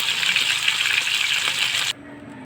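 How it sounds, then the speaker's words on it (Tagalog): Bullet tuna (tulingan) frying in a pan with coconut-milk cooking underway, giving a steady loud hiss and crackle of sizzling oil that cuts off abruptly near the end, leaving a faint background. "prito ko muna saglit tong tulingan"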